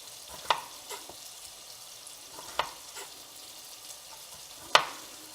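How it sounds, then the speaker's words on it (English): Chorizo frying in a skillet, giving a soft, steady sizzle heard alone, with a few sharp clicks or taps from the pan at intervals. "while the chorizo cooks away"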